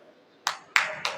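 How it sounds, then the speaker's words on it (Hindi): Applause at a college award ceremony for pharmacy students, three sharp bursts of hand clapping, each with a quick rise and trailing decay, fairly close and moderately loud with a quiet murmur between. "तालियां बजा सकते हो भाई, तालियां बजाने में क्या समस्या है?"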